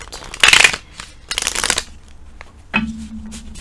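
Tarot cards are shuffled up close in two crisp bursts of riffling, then a few light taps and a soft shuffle.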